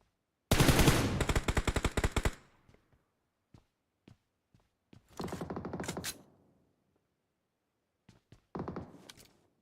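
Rapid automatic gunfire from PUBG Mobile rattles out in a long burst, then scattered single shots and two shorter bursts follow at mid distance, standing alone without talk.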